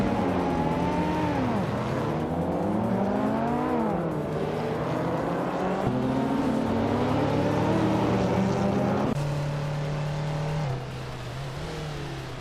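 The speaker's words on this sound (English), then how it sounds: "Maya is on pole in her classic 1983 Porsche 911 AC, racing into the lead at the Tsukuba short track" A classic 1983 Porsche 911 race car in a racing game roars at close range around the Tsukuba short track, its engine revving up and down through repeated gear shifts, loud and continuous with no talk.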